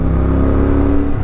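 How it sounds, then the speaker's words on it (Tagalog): An engine passing on a mountain diversion road near Atimonan, a steady loud motor drone up close that fades slightly toward the end, heard without talk. "May dumadaan naman na motor."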